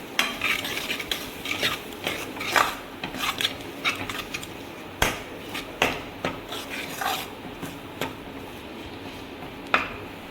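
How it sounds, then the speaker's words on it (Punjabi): A spoon scrapes and clinks repeatedly around a pan, stirring in salt and red chilli powder, with rhythmic rasping strokes and occasional louder metallic taps close by. "ਅੱਧਾ ਚਮਚ ਆਪਾਂ ਲਾਲ ਮਿਰਚ ਦੇ ਪਾਇਆ ਇਹਨੂੰ ਹੁਣ ਆਪਾਂ ਹਿਲਾ ਦੇਣਾ"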